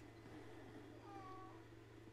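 A cat meows in the game Dark Souls: one short, faint mew over a steady low hum.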